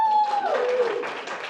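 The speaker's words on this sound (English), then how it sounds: "So big cheer for Nancy" An audience cheers and claps for Nancy on stage, a dense wash of applause and crowd noise that is loud and sustained throughout, with one voice briefly rising above it at the start.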